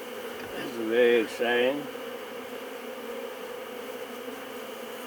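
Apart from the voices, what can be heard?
bees buzzing during a beehive inspection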